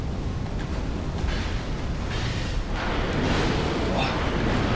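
Explosion in the video game Dark Souls 2, a broad, sustained rumbling roar that fills the scene at steady loudness, with a voice faintly present.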